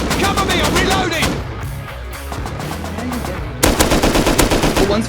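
Sustained automatic gunfire in the survival video game Rust, dense rapid bursts of rifle fire with a brief lull before a loud new volley near the end, voices faintly under the shooting.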